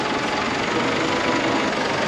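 A tractor engine idles nearby on a farm, a dense continuous low rumble with a steady knocking texture, unchanging and loud throughout.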